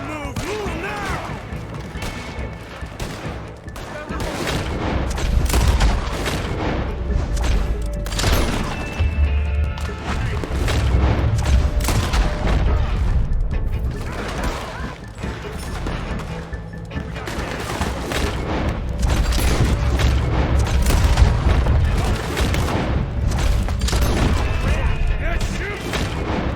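In a Red Dead Redemption 2 shootout, gunfire cracks and booms in a busy, irregular volley, with many sharp shots scattered over nearly half a minute. Voices and other game sounds mix in alongside.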